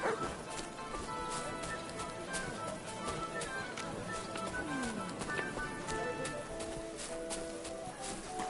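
Barking from the dog Mutt in the video game Kingdom Come Deliverance 2, short yips repeating over busy game ambience with a voice talking at times.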